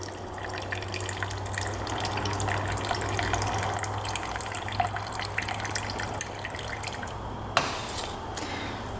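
Gasoline sloshes inside the fuel tank of a Honda dirt bike as a soft, steady liquid swish over a low hum, broken by one sharp knock near the end.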